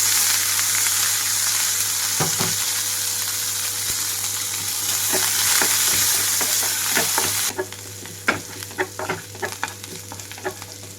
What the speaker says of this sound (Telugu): ఇవన్నీ వేగేటప్పుడే అల్లం తురుము, అలాగే పచ్చిమిరపకాయలు వేస్తున్నాను